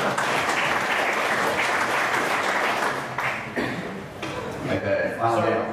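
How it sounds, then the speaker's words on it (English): Audience applause at a security conference talk, steady clapping from a sizeable crowd that thins out after a few seconds while laughter and chatter rise, with voices speaking over the fading claps near the end. "can everyone please give a round of applause"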